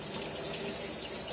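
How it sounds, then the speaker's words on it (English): Boiled eggs peeled under a running kitchen tap, a steady, fairly loud hiss of flowing water splashing into a sink without pause. "I like to peel them under water because it helps get the peeling off usually."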